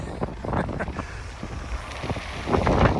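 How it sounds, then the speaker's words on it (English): Gusty wind on a bog overlooking Lake Superior, buffeting the microphone in rumbling bursts, growing stronger toward the end, with no clear talking. "Ooh, it's windy."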